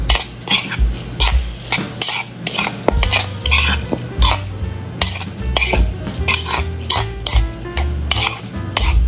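Breadcrumbs and flour get mixed in a bowl for chicken cordon bleu, heard as close, irregular scraping and clinking strokes with brief knocks against the bowl and no talking.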